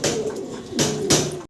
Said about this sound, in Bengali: ভাই ড্যানিশ কবুতর